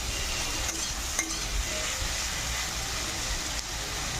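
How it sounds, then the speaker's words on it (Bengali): Ivy gourd and potato pieces frying with salt and turmeric in a hot pan, a dense, unbroken sizzle that stays loud and even throughout, with faint stirring knocks and no voices. "দেখো লাল লাল করে কুঁদরি আলু আমি মিক্স করে ভেজে নিয়েছি।"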